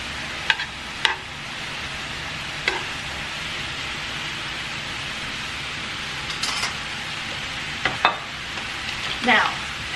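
Spaghetti squash sautéing in a pan gives a steady close sizzle and hiss, with a few sharp clicks and scrapes of stirring scattered throughout.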